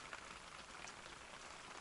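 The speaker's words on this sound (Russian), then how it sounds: "Начался дождь, и это небо затянуло полностью." Light rain begins to fall outdoors near a forest hut on an overcast day, a soft, steady hiss of drops on surfaces, faint and even with no voices.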